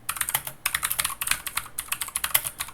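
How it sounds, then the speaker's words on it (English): Fast, uneven key clicks from someone typing a long message on a computer keyboard, close and crisp, in short bursts with a brief pause, no talking. "And I can start typing. This is a very long message, and while I'm typing,"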